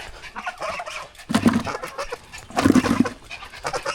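A flock of geese at feeding time honking and cackling excitedly, with loud bursts of overlapping calls rising twice amid steady background clucking.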